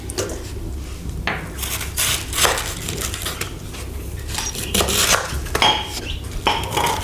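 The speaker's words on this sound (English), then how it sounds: "Next step is to chop up your dye material. I would chop it relatively small" Red cabbage is chopped with a knife on a board, giving a series of irregular crunchy cuts and knocks with scraping in between, close and clear with no talking.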